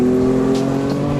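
A Stage 2 tuned BMW F80 M3 with its inline-six, catless downpipes and stock exhaust with the valve open gives a deep, steady droning note, loud and close, during a brief stretch of driving.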